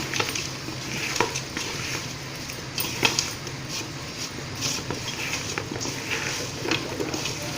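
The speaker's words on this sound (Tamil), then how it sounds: "போட்ட மசாலெலாம் எல்லா பக்கமும் ஒட்டுற மாதிரி நல்லா கலந்துக்கணும்." Bitter gourd slices being tossed and mixed with masala for chips, giving soft, continuous stirring and rustling with scattered light scraping taps against the bowl, steady and close.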